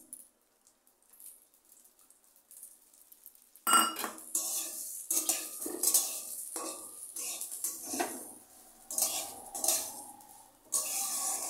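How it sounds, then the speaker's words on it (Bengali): Rice grains roasting with small cardamom in a pan: near-silence, then stirring begins with repeated metal scrapes and clinks of a utensil against the pan over a faint sizzle. "এই চালগুলো একটু ভেজে নেব।"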